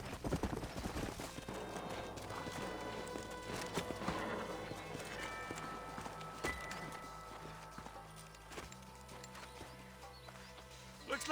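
Horse hooves clip-clop through the video game Red Dead Redemption. The steady walking hoofbeats sound close and mix with occasional whinnies and game sounds, while a voice talks over them.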